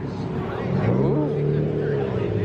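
A Scion FR-S drives past at a car meet, its engine rising and swelling in pitch as it approaches, with crowd chatter and voices nearby.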